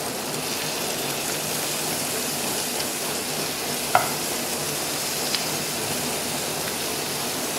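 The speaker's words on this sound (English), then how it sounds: "once the shrimp has been fried, we will add our diced up yam bean" Diced yam bean stir-frying with shrimp in a hot pan, giving a steady, even sizzle that holds throughout with one or two brief clinks of a utensil against the pan.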